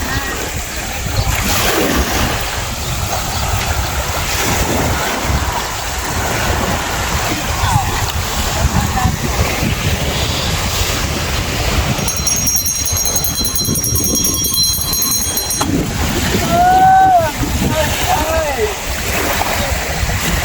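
Sea waves wash steadily along a beach resort shore, a constant broad surf hiss with wind, while people talk over it and a brief high whistle-like sound rises near the end.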